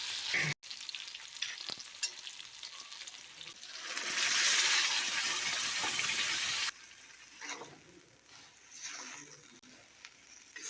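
Eggplant sizzles and fries in oil while being stirred for a Tamil-style eggplant kuzhambu, a steady close hiss that swells louder midway, then drops to quieter bubbling with occasional scraping.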